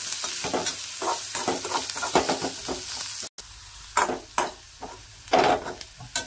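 Chopped onion fries in oil in a pan, a close sizzle broken by repeated scraping stir strokes in an uneven rhythm, with a brief cut partway through.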